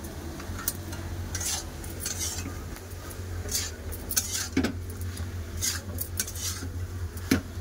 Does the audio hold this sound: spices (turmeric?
yes